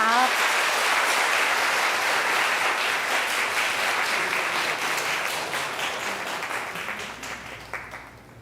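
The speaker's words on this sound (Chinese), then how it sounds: "咱先拍拍手，谢谢他们的辛劳" Applause from a church congregation thanking its Sunday school teachers, dense and steady at first, then fading away over the final seconds.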